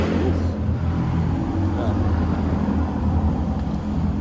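A 2022 Ducati Streetfighter V4S Dark Stealth motorcycle rumbles steadily while riding, its engine and exhaust producing a continuous deep drone mixed with wind rush, with no breaks over a few seconds.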